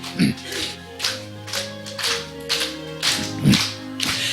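A church congregation claps in rhythm while singing hymn 406 together, steady beats about every half second ringing out over sustained sung voices with an organ-like tone.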